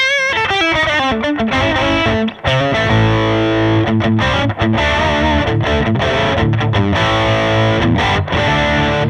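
Heavily distorted electric guitar with P-90 pickups plays chords and riffs, loud and saturated, with brief pauses between phrases and no voices.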